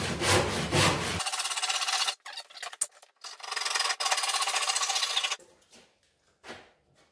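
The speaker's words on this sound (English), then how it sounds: "So I can get a handsaw in there and just tickle that out," Handsaw strokes cut into thick live-edge wood at a mitre joint, with a close burst of rasping sawing, short pauses and taps, then another run of strokes before fading to quiet scraping.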